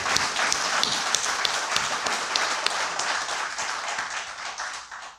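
An audience gives sustained applause to thank the chief guest at a talk, dense clapping from many hands that fills the room and tapers off at the end.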